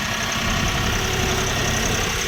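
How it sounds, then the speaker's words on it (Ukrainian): A Shifeng 244 tractor engine runs steadily as the tractor is loaded, a loud, continuous mechanical drone close by with no pauses or changes in pace. "так ми завантажуємо тракторця."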